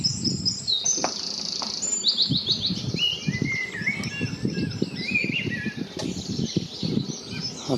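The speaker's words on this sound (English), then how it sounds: "That's a song thrush anyway." A song thrush sings varied, rich phrases of repeated notes over rustling ground noise, fairly close and clear throughout.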